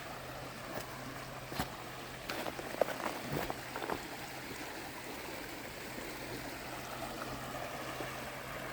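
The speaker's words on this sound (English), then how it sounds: "We're on the banks of Hurricane Creek." Hurricane Creek flows past the bank in a steady, broad rush of water, with a few faint clicks and splashes scattered through the unbroken wash.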